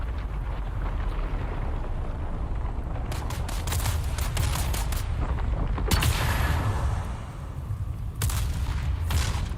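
Gunfire in the video game Dune Awakening, a dense rumbling barrage with sharp bursts of shots and booming blasts over a heavy low roar, loud and continuous.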